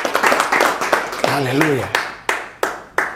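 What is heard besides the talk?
congregation clapping and cheering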